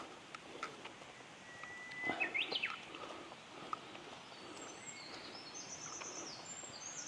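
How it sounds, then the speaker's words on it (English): Birds chirp and call faintly among mountaintop trees on the Shikoku pilgrimage route in Japan, with a brief burst of brighter calls partway through over soft background ambience. "Hope you guys can hear the birds calling."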